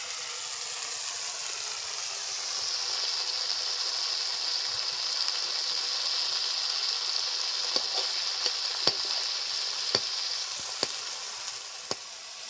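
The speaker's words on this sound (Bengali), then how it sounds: "দুশো গ্রাম চিংড়ি মাছ আগে থেকে ভালো করে ধুয়ে রাখা আছে দিয়ে দিচ্ছি কড়াইতে" About two hundred grams of washed prawns frying in hot oil in a kadai wok, a loud, continuous bright sizzle with sharp crackles and pops growing more frequent toward the end, no speech.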